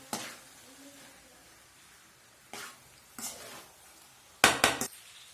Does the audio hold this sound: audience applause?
no